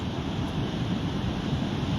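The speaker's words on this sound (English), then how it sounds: "Look at these big waves rolling in." Big ocean waves rolling in as a steady, broad wash of surf with wind noise on the microphone, continuous and fairly loud throughout with no pauses.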